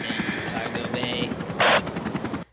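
A video game helicopter's rotor thumps in a steady, rapid chop close by, joined briefly by a burst of hissing noise before the sound cuts off.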